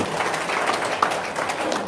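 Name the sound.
audience clapping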